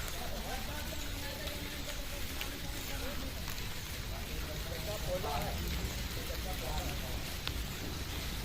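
Rain falls at an ashram in Dhanapur, Amethi, a faint, even hiss of drops that continues throughout.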